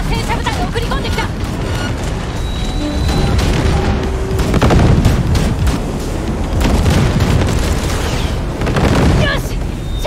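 A heavy explosion in the video game Cyberpunk 2077 during a final battle against a tank unit, deep booming blasts and rumbling debris roaring loudly for several seconds amid layered game effects and music.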